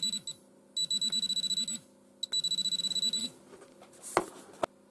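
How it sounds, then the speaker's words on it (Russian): A GP-Pointer GP360 pinpointer metal detector gives two bursts of fast, evenly pulsed high beeps, faint and close, followed by a couple of sharp clicks. "Чем ближе металлический предмет, тем чаще звук и вибрация."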